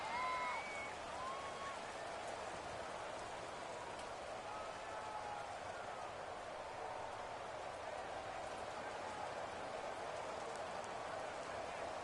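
Steady rain hisses in a dense, unbroken wash for the whole stretch during a Madden NFL video game match, Chargers at Buccaneers, with faint crowd murmur underneath and no voices.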